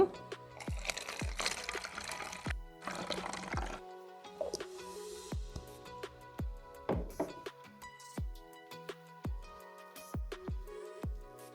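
Vinegar and water poured together into a spray bottle for a homemade cleaner, with bursts of liquid filling and trickling followed by a run of close, sharp drips and small clicks, no talking.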